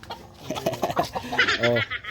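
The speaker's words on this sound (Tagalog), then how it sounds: "Sabi mo, Ma'am Grace, ito yung manok mo." Chicken clucking in short, repeated bursts, moderately close, with a louder drawn-out cluck near the end.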